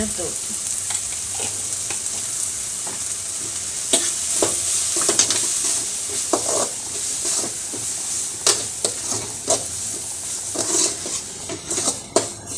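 Chili powder sizzles as it is sautéed in a pan for rasam, a steady frying hiss with sporadic spoon-against-pan scrapes and clinks from stirring, close and continuous, no talking.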